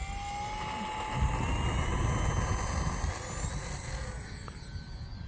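An Arrows RC model P-51 Mustang airplane takes off with a steady, close electric motor whine over broad rushing wind noise, swelling slightly mid-clip and easing away toward the end.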